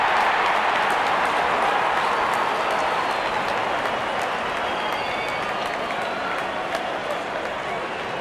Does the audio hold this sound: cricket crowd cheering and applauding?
yes